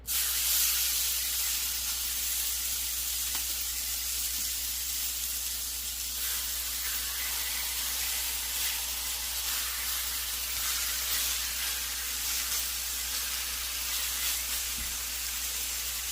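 Rib eye steaks sear in a smoking hot pot, giving a loud, steady hiss and sizzle that runs unbroken throughout with no voices.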